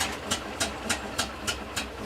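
A restored WWII half-track engine running close by, with a steady low rumble and a regular, loud pulsing chuff about three times a second, with no talk over it.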